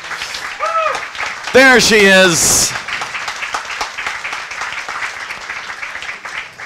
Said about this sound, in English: can you stand up so we can give you an extra round of applause?